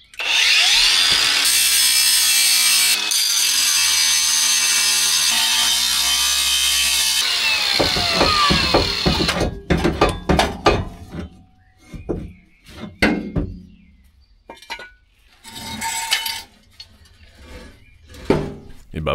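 Metal being cut around the hitch area of a Chevrolet Tahoe: a loud continuous cutting whine for several seconds, then broken into rough bursts and scraping strokes with pauses between them.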